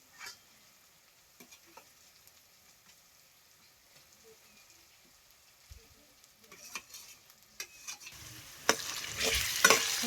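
Onion, tomato and stone-ground lentil paste roasting in a pan over a wood-fired stove, quiet at first with scattered scrapes and taps, then swelling into a louder close sizzle near the end.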